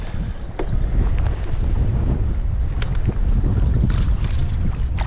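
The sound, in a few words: wind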